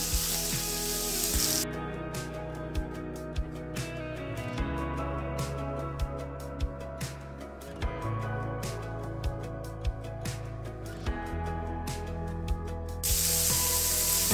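Onions roasting in oil in a pan while a stuffed bitter gourd dish is prepared: a steady, close sizzling hiss runs throughout, with a musical backing underneath and a few small clicks from the pan.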